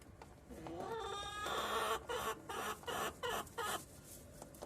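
Chickens cluck close by on a farm in a run of short, rhythmic bursts, with some higher chatter at the start, waiting for food to fall.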